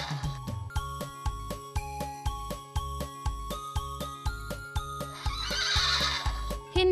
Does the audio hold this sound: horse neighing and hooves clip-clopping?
yes